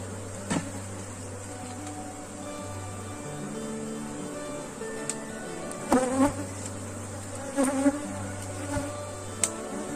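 Honeybees buzz steadily around a hive box, a dense continuous drone nearby with a few sharper knocks and clicks breaking through.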